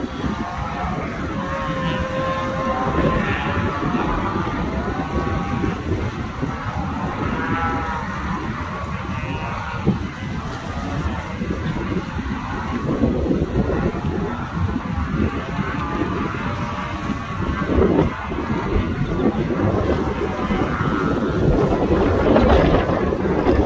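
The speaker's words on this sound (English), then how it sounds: "It's a real windy day." Wind on a windy day at the Colorado River in Matagorda, Texas, during a cattle drive: steady blustery rushing against the microphone, mixed with animal calls and a low motor-like drone throughout.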